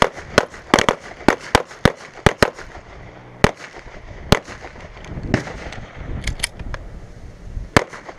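Sharp pistol shots on an outdoor defensive shooting range during a drill, fired in quick pairs and triplets, loud and near, with quieter shots between them and no voices.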